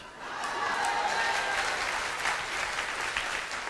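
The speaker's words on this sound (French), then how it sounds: "Là, les applaudissements se font un peu moins retentissants." A church congregation claps during a sermon-style meditation, a subdued, moderately distant patter that swells slightly and holds evenly for a few seconds.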